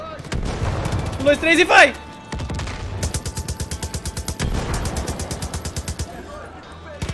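Rapid automatic gunfire from a weapon in Far Cry 5, with a dense early burst and then two long, evenly spaced strings of loud shots. A voice counts down at the start, with game effects mixed in.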